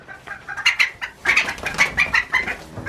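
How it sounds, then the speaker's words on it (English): A laying hen clucks in a quick series of short, close calls, bunched into rhythmic bursts of several clucks each. "Are you messing with that chicken?"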